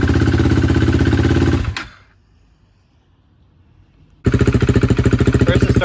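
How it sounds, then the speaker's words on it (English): A 2016 KTM Duke 390 motorcycle engine runs loud and close with a rough, pulsing idle, then stalls into near-silence for about two seconds before the engine noise suddenly returns just as loud. "First it starts with like a bad idle and then it dies."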